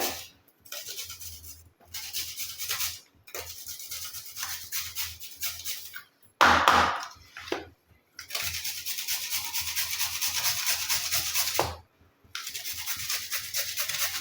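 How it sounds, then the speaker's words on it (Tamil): Carrot being grated by hand on a grater in a home kitchen, a run of rough rasping strokes in bursts separated by short pauses, close and fairly loud with no talk. "இந்த கேரட்டை நம்ம இந்த மாதிரி துருவி எடுத்துக்கலாம்."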